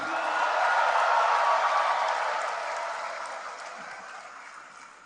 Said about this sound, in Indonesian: Kok tepuk tangan lebih gemuruh kalau Teddy.